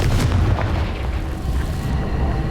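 A Confringo fire spell detonates in the Hogwarts Legacy video game on Nintendo Switch, a loud booming blast with a rumbling low roar that rolls on and slowly fades, heard without voices.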